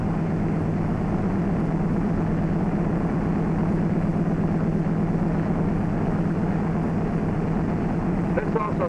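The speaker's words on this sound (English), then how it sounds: "Adjust the engine speeds to 1500 RPM." The engines of a troop carrier airplane run at 1500 RPM in a constant, heavy drone with no change in pitch, while a voice narrates over the roar.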